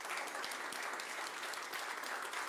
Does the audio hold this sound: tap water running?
no